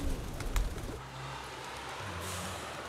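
A pigeon coos at the 16th Street BART station in San Francisco, with a low, soft, rolling call over a steady hum of station noise and a brief burst of bird sounds at the start.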